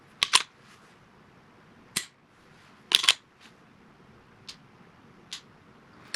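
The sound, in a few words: dry fire trigger squeeze and release, Springfield XD-M Elite handgun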